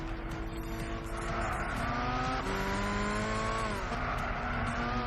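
A race car engine in Gran Turismo 6 revs steadily at high pitch, with rising and falling gear tones and a brief shift, close and continuous.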